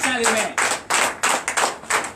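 Congregation clapping in rhythm during a Sunday church service in Comè, Benin, with several sharp bursts of claps in a steady beat and voices mixed in underneath.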